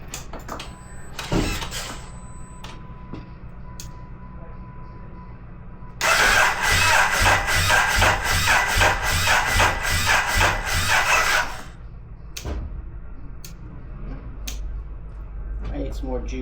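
A 2014 Ducati Hypermotard 821 motorcycle in a garage cranks over on its starter for about five seconds without firing, a loud, rapid, rhythmic churning that stops abruptly, with quieter handling noises before and after.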